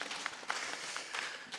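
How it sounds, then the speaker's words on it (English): Audience at a county procurement congress clapping steadily for a speaker, a soft, even patter of many hands spread across the room at moderate distance. "Let us clap for him."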